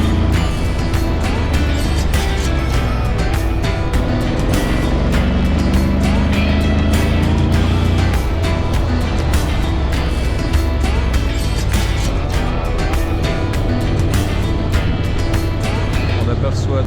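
Steady engine drone and wind rush of a motorcycle cruising along a frosty mountain road in Valais, Switzerland, near the Grande Dixence dam, continuous and loud throughout.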